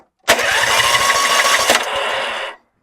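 A John Deere GX75 lawn tractor engine cranks and catches, with a loud, close, rough mechanical roar lasting about two seconds before cutting off abruptly, heard alone without talk.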